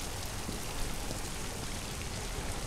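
Steady rain pouring down in the video game Detroit, a dense even hiss of falling water with no voices.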